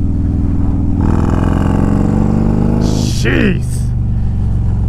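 A 130-cubic-inch Harley-Davidson Road Glide pulls away from fourth gear at about 2,500 RPM, its loud, deep engine drone climbing steadily under wind rush, with a rider's brief exclamation near the end.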